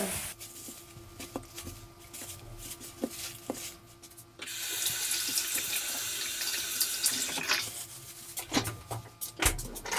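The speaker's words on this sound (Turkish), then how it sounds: "Ama Domateslerimi ve salatalıklarımı yıkayayım öncelikle" Tomatoes and cucumbers are washed under a running kitchen tap. Quiet handling and clicks come first, then the faucet opens into a steady, close hiss of flowing water that splashes into the sink.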